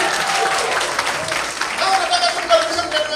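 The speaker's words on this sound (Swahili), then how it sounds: "Tumpigie makofi mazuri" An audience applauds at a gathering in a steady, dense wash of clapping, with voices mixed in underneath.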